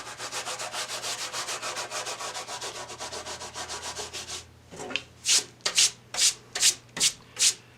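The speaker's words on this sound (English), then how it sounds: "Continuing to rub out some of that more spatter that we applied near the very beginning." Dried liquid frisket spatter is rubbed off watercolor paper with quick, steady scrubbing strokes, close and dry, then slower separate swipes toward the end.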